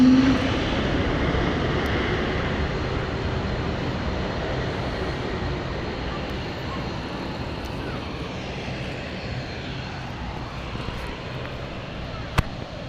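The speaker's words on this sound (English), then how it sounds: "this is the E2, the largest aircraft here that can operate at London City" An Embraer E195-E2 jet at London City Airport gives a steady, broad engine roar, loud at first and slowly easing, with a faint voice under it.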